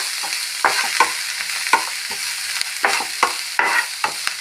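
Onions and crushed black pepper fry in a pan for a spicy-sweet egg roast, a steady loud sizzle broken by repeated scraping stir strokes at an uneven rhythm, with no voices.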